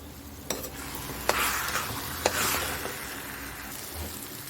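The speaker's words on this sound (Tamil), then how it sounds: "இப்போ நல்லா வதக்கி எடுத்துக்கலாம்" Brinjal sautéing in a pan for bartha, a steady soft sizzle with a few sharp clicks of a spoon or spatula scraping and stirring, close and clear with no talking.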